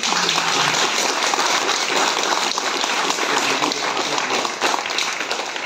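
A gathered audience claps loudly and continuously to welcome an elder sister, Didi, at a spiritual assembly in Indore. The dense applause fills the room, sustained and near, with no break.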